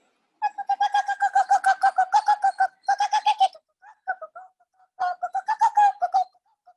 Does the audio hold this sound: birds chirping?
yes